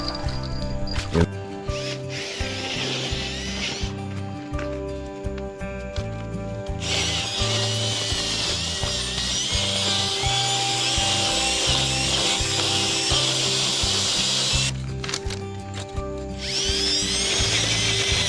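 A power drill with its side handle fitted whirs in long bursts with steady motor harmonics, stopping and restarting between runs, fairly close with gritty grinding texture, during gold prospecting.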